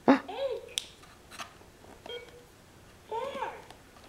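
A child's toy phone gives short electronic beeps and chirpy tones in scattered bursts at a first birthday, with sharp clicks between them and a louder cluster near the end.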